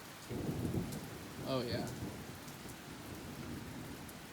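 A late-spring thunderstorm outdoors: steady rain hiss with low rolling thunder rumbling near the start, while someone briefly speaks over it.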